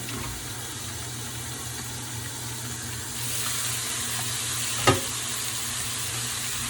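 Pizza and vegetables cooking in a pan and being stirred, a steady close sizzle with watery frying noise and one sharp scrape or clink partway through, no voices.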